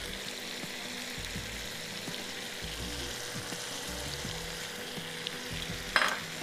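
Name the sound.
marinated chicken frying with ginger, garlic and tomatoes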